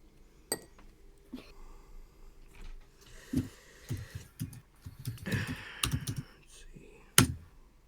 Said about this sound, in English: Let's try just simply typing up Atlantis.